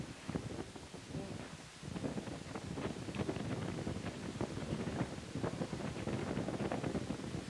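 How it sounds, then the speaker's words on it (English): Wind blows outdoors at an open-air amphitheater among old castle ruins, buffeting the microphone in steady gusts with faint rustling, fairly quiet overall. "I love that wind."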